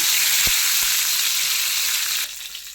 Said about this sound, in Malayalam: അപ്പോൾ നമ്മൾ ഈ എണ്ണ നല്ലോണം ചൂടായി വന്നിട്ടുണ്ടെങ്കിൽ അതിലേക്ക് കറിവേപ്പില ഇടാണ്